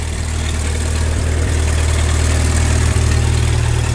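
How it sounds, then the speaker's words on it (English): A 1927 Farmall Regular tractor engine idles steadily, a loud, close, low rumbling chug with an even throb and a faint mechanical rattle on top, running alone without talk. "This tractor runs excellent"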